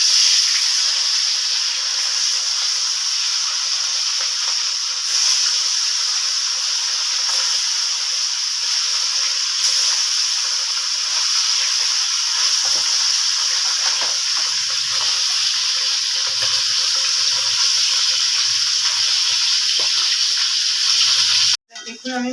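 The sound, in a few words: mola fish frying in hot oil in a wok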